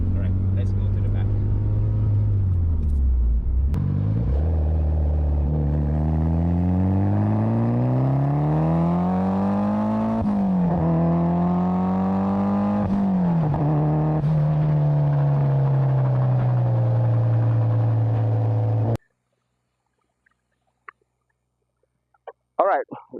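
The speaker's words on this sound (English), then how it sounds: "But I'm sure you want to hear the Ganador exhaust system from the back, right?" A 1999 Mitsubishi Evolution 6 CP9A with a Ganador exhaust, heard from the rear, revs repeatedly in rising and falling sweeps, a loud, close exhaust note over a steady idle, then cuts off abruptly into near silence.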